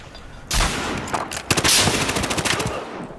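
Loud bursts of automatic gunfire in the Battlefield Hardline multiplayer shooter, a heavy burst starting at once, then a rapid rattling stream of shots, close and dominating with no talk.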